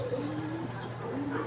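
Racing pigeons in a Sto. Tomas, Batangas loft coo softly in low, rolling phrases, a few close calls repeating under faint background voices and a steady ambient hum.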